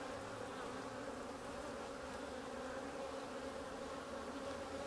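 Honey bees buzz in a dense, continuous drone during a beehive inspection, close and steady with no voices over them.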